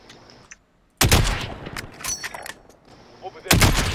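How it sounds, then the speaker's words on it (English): Gunfire in an online shooter video game: a few sharp, loud bursts of shots ring out close by, separated by quieter gaps with faint game ambience and brief spoken voices. "Somebody shot me."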